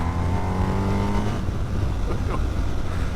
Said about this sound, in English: it doesn't sound massively exciting, does it, this Boxer Twin, but it's still got some go on it